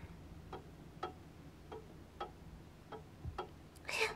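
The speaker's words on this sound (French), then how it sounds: "c'est juste la pendule" A pendulum clock ticks quietly indoors, seven evenly spaced soft ticks about half a second apart, faint and alone, with a brighter brief sound at the very end.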